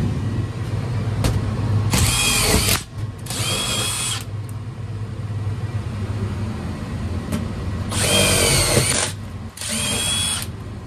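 A power drill bores into sheet-metal HVAC furnace ductwork in two sets of whining bursts, each a couple of seconds long and separated by pauses, close and loud over a steady background hum from the furnace fan.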